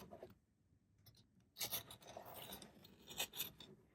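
Scissors trim leftover wax from both layers of a purple sparkle crocheted scarf at once, giving soft rasping cuts that start faint and grow louder and denser in the second half, close up with no talk.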